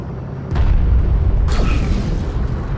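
A strike craft blows up in the game Homeworld: Deserts of Kharak with a loud, deep boom, followed by a second blast and a rumbling tail.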